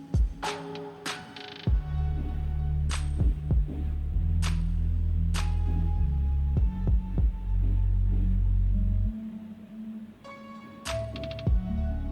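An electric sewing machine stitches folded elastic onto a tulip shalwar, its motor humming steadily in runs with sharp ticks and knocks as it starts and stops, close and alone.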